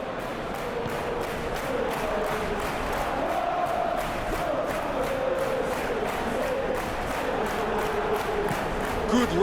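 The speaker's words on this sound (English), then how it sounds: "The crowd appreciates good football all round there." Football stadium crowd at a Manchester United versus Leicester match applauding: a steady, dense wash of clapping and murmur from a large, distant crowd that holds throughout and swells slightly at the end.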